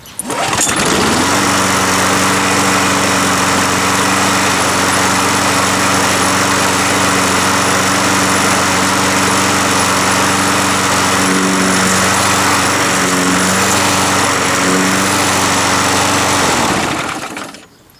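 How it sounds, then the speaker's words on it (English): A Sears Craftsman self-propelled lawn mower starts and runs with a loud, steady droning engine for most of the stretch, its pitch wavering slightly midway before it cuts off near the end. "we're going to see if the drive wheels work. So here we go. And we'll start it."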